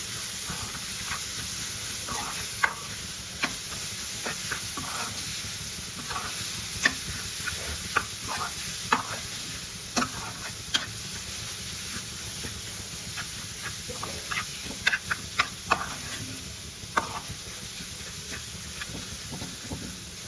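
Grated radish fries in a pan while a spoon stirs it, a continuous sizzling hiss broken by repeated sharp taps and scrapes of the utensil against the pan.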